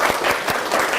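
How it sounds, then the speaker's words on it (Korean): Congregation applause during a service at a Korean church, a brief, dense burst of many hands clapping together at steady loudness. "박수로 우리 환영하겠습니다."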